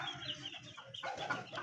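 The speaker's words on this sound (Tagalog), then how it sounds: "Yan yung broadcock ni Pre-Jason na Boston Roundhead" A Boston Roundhead broodcock rooster gives a short run of close, throaty clucks in a farmyard, steady and moderately loud.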